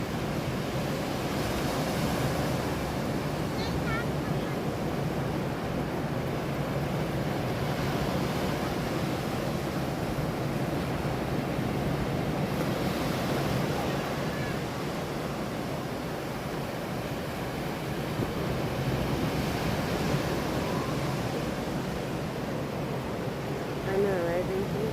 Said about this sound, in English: Because the ocean is loud, and people are gonna watch this for ASMR